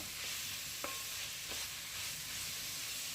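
Fresh mint is stirred into ginger paste frying in a pan for biryani, giving a quiet, steady sizzle broken by a couple of soft spoon scrapes, with no voices.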